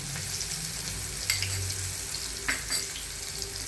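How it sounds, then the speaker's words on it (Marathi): Finely chopped onion dropped into hot tempering oil for Mumbai-style ragda sizzles steadily up close, with a few sharper spatters and stirring clinks partway through and no one speaking. "आता त्याच्यामध्ये थोडा कांदा घालून घ्यायचा बरं का, बारीक चिरलेला"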